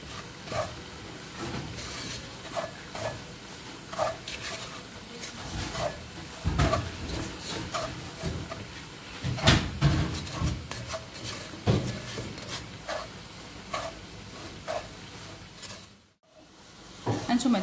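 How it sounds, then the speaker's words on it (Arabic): Sugar caramelizing in a pan, stirred with a wooden spoon: a soft continuous sizzle with irregular scraping and knocking strokes of the spoon against the pan, close and moderately quiet. "كنحركها بشي حاجه بحال هكا، شي معلقه ديال العود"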